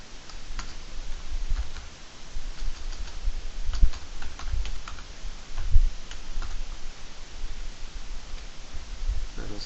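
Typing on a computer keyboard, a steady patter of small key clicks with a few louder strikes, close and continuous over a faint background hiss.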